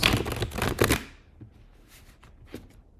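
Tarot cards being shuffled by hand: a quick run of crisp riffling and flapping lasting about a second, then a few faint soft taps and shuffles.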